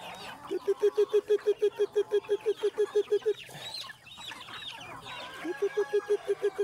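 Backyard chickens in a farmyard, with one bird giving a fast, steady run of loud repeated clucks that pauses briefly and then resumes, over a busy background of other fowl calls.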